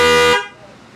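A single short, loud horn honk from a Yamaha XMAX 300 scooter fitted with a Denso Power Tone horn, with a buzzy, harmonic tone, cuts off sharply after a fraction of a second.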